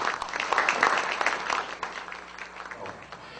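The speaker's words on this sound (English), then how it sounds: "And Margo Neal, the president of WWAC, please a round of applause for them." Audience applause at an evening speaker event, a dense burst of clapping that peaks early and then thins and fades, with some crowd noise mixed in.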